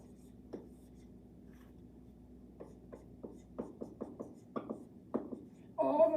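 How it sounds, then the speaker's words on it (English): Pen strokes on paper as a precalculus formula is written out by hand, a series of short scratchy marks in close succession, fairly faint and close, with a brief louder rustle at the end. "let me write the formula down first."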